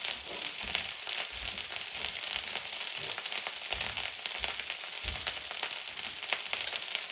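Fried rice topped with sriracha sizzles steadily in a hot pan as it heats through, a soft continuous crackle heard close with faint stirring scrapes and no talk.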